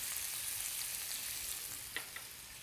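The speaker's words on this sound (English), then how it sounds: "Then we're going to go ahead and add our artichoke hearts, sun-dried tomatoes" Artichoke hearts and sun-dried tomatoes sizzle steadily in hot oil in a pan, a constant hiss with a couple of small pops near the end, alone without talk.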